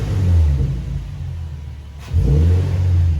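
A Q50 car engine revs with a deep, rumbling drone and a steady rush of intake suction, dipping briefly before surging back up, close and loud.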